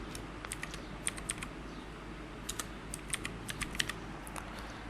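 A username is tapped out on a computer keyboard in quick irregular bursts of crisp keystrokes, fairly close and quiet, with a low background hum and no talk.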